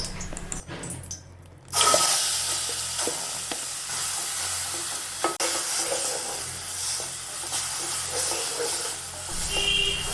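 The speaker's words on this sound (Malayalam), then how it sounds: "നമുക്ക് അതിലേക്ക് ഒരു അര ടീസ്പൂണോളം നെയ്യ് ഒഴിച്ചു കൊടുക്കാം അതൊന്ന് ഉരുകി വരുമ്പോൾ നമുക്ക് നമ്മളെടുത്ത് വെച്ചിരിക്കുന്ന പഴം അതിലേക്കിട്ടൊന്ന് വഴറ്റിയെടുക്കാം" Banana dropped into melted ghee in a pan sets off a sudden loud hiss that settles into steady close sizzling, with faint stirring scrapes and occasional taps against the pan.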